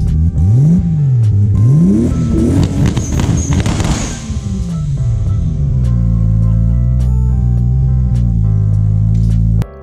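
A car engine close by revs in rising and falling sweeps with sharp clattering transients, then settles into a steady, lower drone that continues loud to the end.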